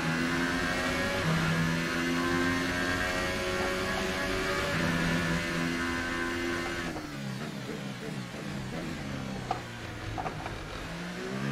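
A McLaren race car engine revving in the F1 2018 video game at the Monaco Grand Prix, the car damaged with many broken components, droning loudly and continuously with shifting pitch and a gear change partway through.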